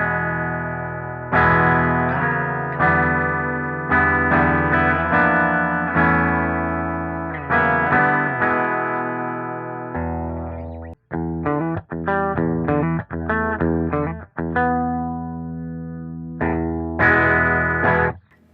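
Clean electric guitar, an Ibanez SC420 on the bridge humbucker through a 5150 amp's clean channel, strummed and picked in short chord phrases, bright and full, with a few choppy muted stabs in the middle; no voices.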